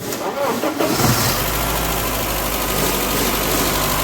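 A BMW 318i engine cranks and catches after its trigger set is replaced, then settles into a loud, steady idle close by for the rest of the clip.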